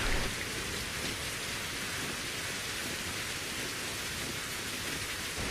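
Steady rain pours down in a winter survival video game, a dense, even hiss of falling drops that holds at a constant level throughout, with no voices over it.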